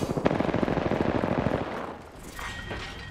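Rapid automatic gunfire in the Apex Legends shooter game rattles in a dense, fast burst, then fades into a busy mix of game effects.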